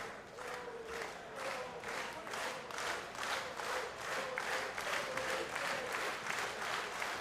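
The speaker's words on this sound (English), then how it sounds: "The crowd rallying" A wrestling arena crowd claps and chants in a steady, rhythmic beat, about two claps per second, with cheering layered underneath, moderately loud and continuous.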